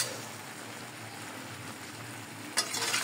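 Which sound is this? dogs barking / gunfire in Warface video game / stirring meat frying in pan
stirring meat frying in pan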